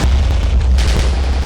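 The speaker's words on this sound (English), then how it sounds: "Oh, explosions." Loud, continuous rumbling explosions in Minecraft with heavy low-end booms rolling one into another, dense and close throughout.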